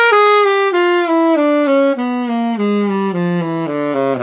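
A diminished half-whole scale starting from C is played descending, one clear sustained note after another at an even pace, stepping steadily down in pitch for roughly a dozen notes with no talking.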